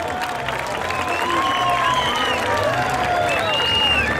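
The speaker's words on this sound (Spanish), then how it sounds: "Un aplauso para la señorita Boquerón." Crowd applause with some cheering for a pageant queen presented in traditional costume at the Onzaga fairs and festivals, sustained and fairly loud across the whole stretch.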